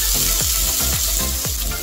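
Ridge gourd peels fry in oil over a low flame with a loud, continuous close sizzle, and a faint rhythmic pulsing of stirring runs underneath.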